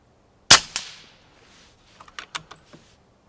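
A Brocock Sniper XR Magnum air rifle fires a pellet with one sharp crack, followed moments later by a few faint clicks and taps.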